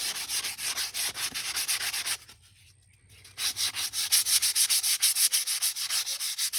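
Sandpaper rubbed briskly back and forth over a small painted wooden craft star, a steady rhythmic rasping that pauses briefly before resuming, close and fairly quiet.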